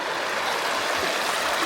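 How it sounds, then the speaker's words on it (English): Small stream of water flowing over very hot rocks at a natural hot spring in Landmannalaugar, Iceland, a steady close rushing trickle that fills the whole stretch evenly with no voices. "water stream"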